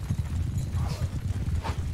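Horses' hooves clip-clop in the Mount and Blade video game as mounted horse archers ride, a dense, steady, rapid beat of thuds that keeps going loudly through the whole stretch with no voices.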